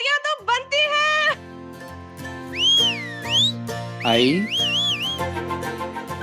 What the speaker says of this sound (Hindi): सीटियां तो बनती हैं